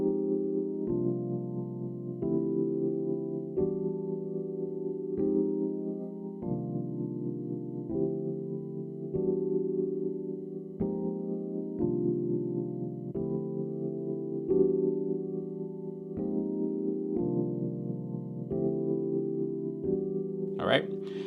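Sustained neo-soul keyboard chords change in a steady, repeating cycle, each held roughly a second with warm, rich harmonies; a brief bright blip at the very end.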